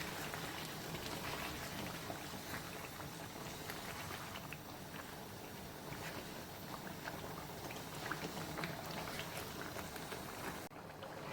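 Chicken biryani cooking in a pot, heard as a faint, continuous bubbling simmer with soft dense crackle throughout and no voices.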